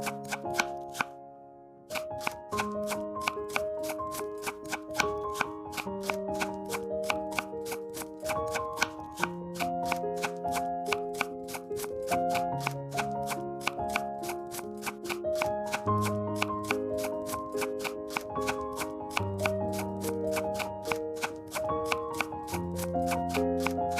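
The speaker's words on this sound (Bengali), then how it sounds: "তারপরে আমি সব সবজিগুলো কেটে নিচ্ছি।" A kitchen knife chops carrot, beans and cabbage for soup noodles, a fast, steady run of crisp taps on a board that continues for a long stretch, close and fairly soft, with no voices.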